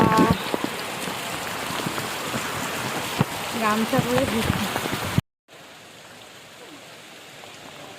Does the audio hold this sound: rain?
yes